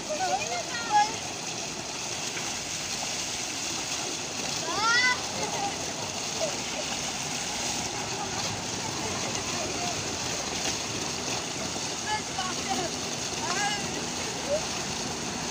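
Children splashing while bathing in cold water at a rural Punjab shrine site, soft intermittent splashes and lapping water heard fairly faint, with people talking and children's voices throughout.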